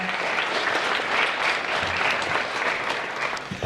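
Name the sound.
applause for the vice principal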